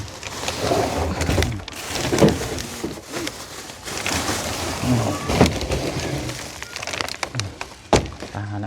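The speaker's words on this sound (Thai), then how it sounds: "ฝนตกเลยเปียกเลย" Steady rain pours outdoors beside a house, with thunder rumbling at moments and scattered drops striking a surface, continuous and fairly loud throughout with no talking.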